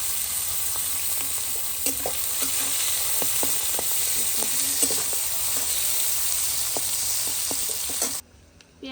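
Onions frying in a pan, a steady loud sizzle with occasional stirring clicks and scrapes, close by, continuing for most of the clip before cutting off near the end.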